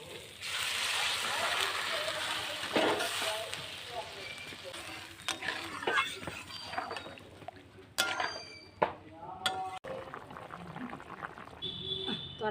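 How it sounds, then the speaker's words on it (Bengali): Hot water splashes into a simmering dhokar dalna, a Bengali curry of fried lentil cakes, with bubbling liquid, brief clinks of utensils and noisy kitchen hiss continuing throughout. "গরম জল বসানো রয়েছে, আমি জলটা তরকারিতে দেবো এখন।"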